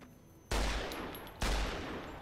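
Two heavy .50 caliber pistol shots ring out in the video game Fallout New Vegas, each a loud sharp blast with a long decaying tail, spaced about a second apart, with no voices.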